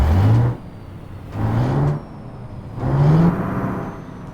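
An Ikarus 256.50 bus diesel engine in the OMSI 2 simulator, close and loud, swelling and rising in pitch three times with brief quieter dips between. No voices.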